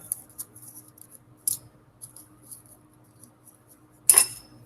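Scissors snipping paper templates used for making steel flowers, a few faint scattered snips followed by one sharp, louder cut close by near the end.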